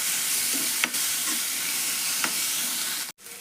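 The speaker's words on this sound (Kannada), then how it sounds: "ಈಗ ಟೊಮೆಟೊ ಫ್ರೈ ಮಾಡೋಣ್ರಿ ಒಗ್ಗರಣೆಗೆ" Tomatoes fry in oil as a spatula stirs them, a loud continuous sizzle broken by a few scraping strokes and a brief drop near the end; no one speaks.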